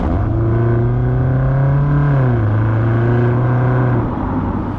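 A 4.4-litre V8 engine revs hard and steadily, its loud, throbbing note holding, dipping slightly, then settling again for several seconds with no talk.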